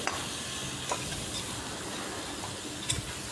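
Raw potato pieces are stirred into a frying spice paste in a pan for a spicy stinging catfish curry, giving a steady hissing sizzle punctuated by a few soft spoon clicks, with no speech.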